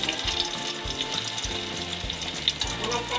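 Onion frying in hot cooking oil in a pan, a close, steady sizzle with soft crackles and occasional stirring clatter, no talk over it.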